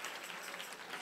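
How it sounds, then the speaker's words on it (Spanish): A church congregation applauds during a sermon, the clapping faint, brief and distant, with no voices over it. "Si le va a dar al Señor el aplauso, déselo bien."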